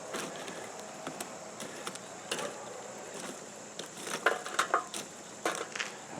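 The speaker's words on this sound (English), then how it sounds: "Move these coals around a little bit here." Campfire coals shifted and scraped around in an outdoor cooking fire, giving scattered short crunching and clinking bursts against a steady background hiss, with a busier cluster of scrapes near the end.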